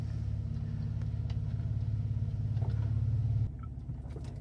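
Jeep Wrangler with a check-engine fault and unbolted coil packs, driven slowly: a steady low engine rumble and drone fills the whole clip, dropping slightly in level near the end.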